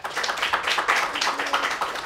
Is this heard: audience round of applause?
yes